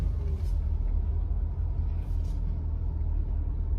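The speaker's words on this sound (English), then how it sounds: "Dude, that's gotta be a train." Deep, continuous low rumble of a passing train heard from inside a car, heavy and steady throughout with faint higher swishes above it.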